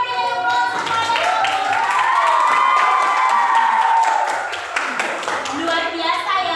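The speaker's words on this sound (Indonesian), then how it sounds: "Oke, kita berikan aplaus kepada" Students in a classroom cheer and clap for a presenting teacher. Loud, sustained whoops and shouts ride over steady applause from a close group.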